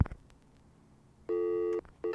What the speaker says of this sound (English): Let's try and make a phone call.